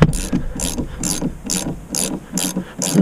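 Ratchet on shock absorber bolts at the rear of a 2006 Toyota Sienna, clicking in a steady rhythm of about seven quick pulls, close and clear with no talk.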